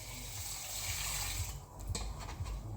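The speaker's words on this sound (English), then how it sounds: "So I'm also gonna be adding some 300 milliliters of warm water." Warm water, about 300 millilitres, is poured into a pot for boiling savoury rice, making a steady close splashing pour that breaks into a few gurgling spurts near the end, with no talk.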